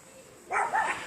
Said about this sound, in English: Bloody dogs.